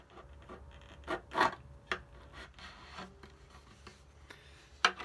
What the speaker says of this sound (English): And I just sand it down or file it down.